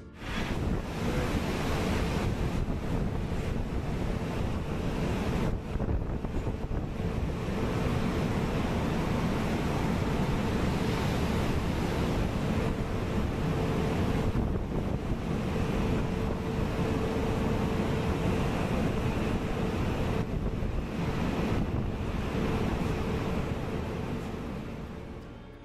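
Massive North Sea waves pound against an offshore oil rig in a continuous roaring wash of surf, heavy wind buffeting the microphone throughout with no voices.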